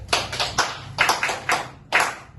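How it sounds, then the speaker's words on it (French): Short bursts of hand clapping in a class presentation, several quick claps in uneven groups, close and fairly loud with brief pauses between them. "on applaudit pour elle"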